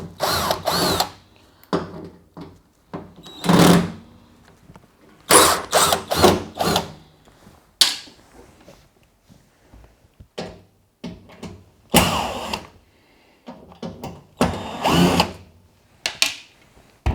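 A power drill drives screws out of a Bosch washing machine in repeated short whirring bursts separated by pauses, close and fairly loud.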